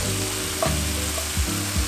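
Steady broadband sizzle of food frying in a pan, continuous and close, with a few soft clinks and stirring knocks.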